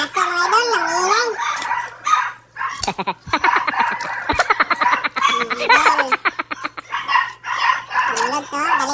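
A dog barks in a burst of sharp, rapid yaps at close range, mixed in with loud, excited voices talking and laughing throughout.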